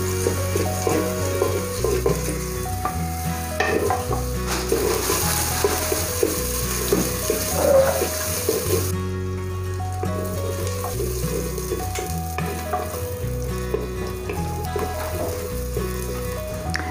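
Onions fry in a clay pot while chicken makhni handiya is being made, giving a continuous loud sizzle and crackle with occasional stirring and clinks, set over background music.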